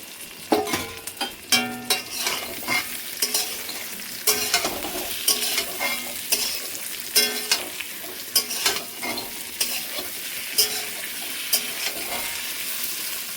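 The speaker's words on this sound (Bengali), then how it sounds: "আলু দিয়ে হালকা একটু নেড়ে চেড়ে নেবো" Potato pieces stirred in hot oil with a spiced eggplant masala, an oily sizzle broken by repeated scraping spoon strokes at a steady rhythm, close and fairly loud, no talk.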